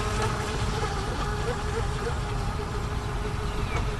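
A Pro Boat Widowmaker RC boat's electric motor whines steadily at about half throttle, buzzing continuously at moderate distance over water, with no talking.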